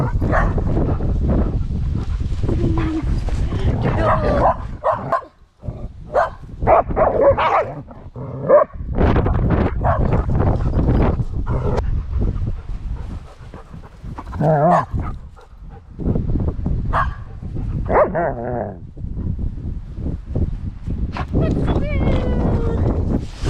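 Several dogs bark, yip and whimper close by at a dog-sitting house, in excited bursts with short pauses, while a person talks to them over the noise.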